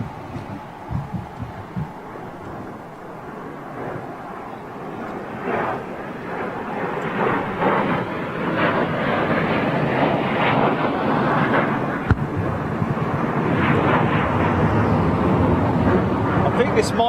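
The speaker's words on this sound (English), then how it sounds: "I think this might be the two F-15s that went out in that last wave" Two F-15 fighter jets fly in at RAF Lakenheath, a distant rumbling roar that swells steadily louder over several seconds, with people talking at first.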